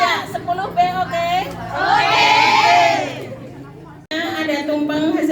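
A crowd of students at a school Kartini Day celebration shouts and cheers their class name, 10B, in a loud collective burst that swells, cuts off abruptly, then resumes with more group chatter and yelling.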